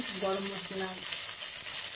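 Chopped onions dropped into hot oil, a steady close hiss of sizzling throughout two seconds, with a brief voice murmuring at the start.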